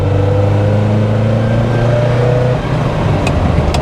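A Ferrari Dino 308 GT4 engine drones loud and steady from inside the car while driving, its note shifting slightly partway through.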